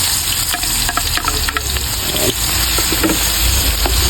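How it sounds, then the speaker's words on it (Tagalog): Ginger, garlic and onion sautéing in hot oil for chicken adobo, a loud, steady sizzle throughout with occasional stirring scrapes and no talking. "Gisa na natin yung mga lamas niya, luya, bawang, saka bombay."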